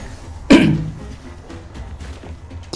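A single sharp cough from a character in the video game Hello Neighbor 2, fairly close and short, followed by quieter game ambience.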